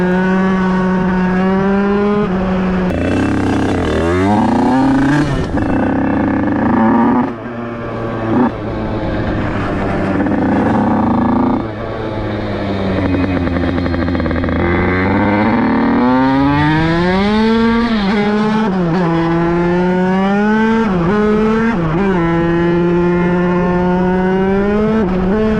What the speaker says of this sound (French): la bêta, son embrayage il est mort et elle commence à patiner